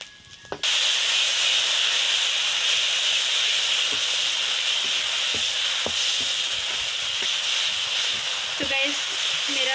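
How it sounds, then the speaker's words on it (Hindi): Panch phoron, chili powder and asafoetida frying in hot oil in a pan, a steady close sizzle and hiss that continues throughout, with faint clicks and light stirring taps scattered over it. "मसाला भी हमने भून लिया है, आप लोग देख सकते हैं"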